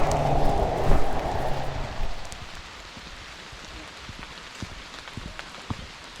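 Light rain patters onto a wet, rocky hiking trail on the Bruce Trail, a soft steady hiss with scattered close drips; a louder rustle near the start fades to quieter, even rainfall.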